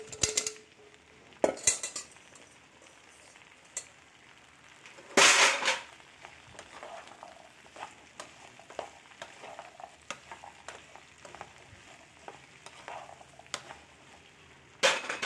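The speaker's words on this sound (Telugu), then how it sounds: "ఈ బెండకాయలని దీంట్లో వేసి మగ్గనిద్దాం." Okra frying in oil in a pan, a soft steady sizzle with occasional sharp clinks of a spoon or utensil against the pan, and one louder clatter midway.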